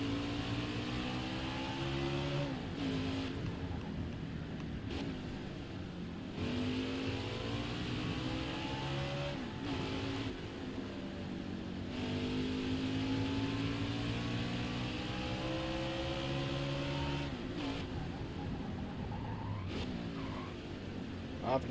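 Race car engine in the NASCAR Heat 5 game on the Road America circuit, revving loudly and continuously with repeated gear shifts and throttle lifts, the pitch climbing and dropping throughout with a voice talking over it.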